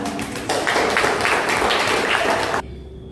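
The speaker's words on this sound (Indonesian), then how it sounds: "Kasih tepuk tangan" An audience applauds in a hall during a presentation on a wedding ceremony, a dense burst of clapping that cuts off abruptly after about two and a half seconds.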